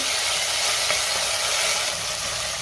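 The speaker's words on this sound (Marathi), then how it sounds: "आता मी आलं लसणाची पेस्ट घालते आणि पुन्हा 1 मिनिटभर परतून घेते" Ginger garlic paste sautéing with onions in a pan for soya pulao, a steady close sizzle with faint stirring, continuous and fairly loud throughout with no voices.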